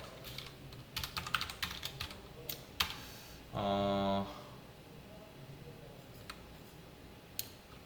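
Fingers type C code on a computer keyboard close up, with bursts of quick clacking keystrokes and pauses between them. One short electronic tone sounds partway through, and faint speech is heard in the background.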